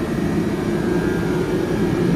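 Heater running steadily in a cold car detailing workshop, a constant broadband roar that fills the space without pause.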